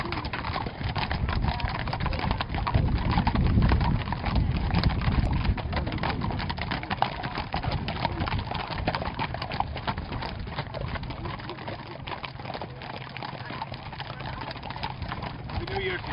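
Horses' hooves clip-clop steadily on hard ground at a fox hunt in Knocklong, many overlapping beats close by, with a horse snorting and some background noise.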